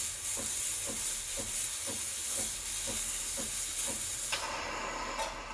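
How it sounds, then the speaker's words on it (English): A Breville Barista Pro steam wand steams milk with a steady loud hiss and a faint regular clicking pulse beneath, rising to a brighter, harsher roar near the end. "And then you want to learn the technique for milk steaming."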